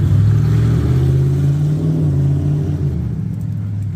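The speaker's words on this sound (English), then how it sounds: "To give just a little bit of exhaust there." An Indian Pursuit motorcycle with aftermarket exhaust rumbles loudly and steadily nearby, revving slightly before tapering off toward the end, with no voices.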